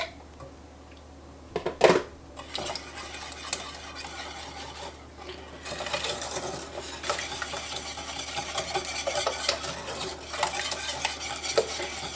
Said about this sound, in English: And then I'm going to whisk in 4 large eggs that are at room temperature and lightly